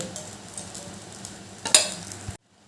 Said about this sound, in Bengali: এবার ওই কড়াইয়ে দিয়ে দিলাম আর একটু সর্ষের তেল